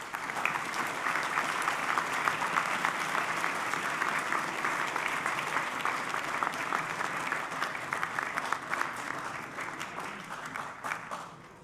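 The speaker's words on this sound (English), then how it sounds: "Can we please give the chess team a round of applause?" A school assembly hall fills with steady, dense applause for the chess team, a broad wash of many hands clapping continuously at even loudness, then thinning slightly toward the end, with no talk over it.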